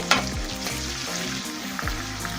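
Chopped onion hits hot oil with a sharp burst of sizzling, then keeps frying steadily as it is stirred, with a few scraping strokes of a utensil in the pan.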